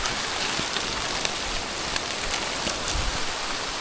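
Steady, dense rain falls throughout on a dark night, a continuous even hiss of drops striking surfaces nearby, with no voices.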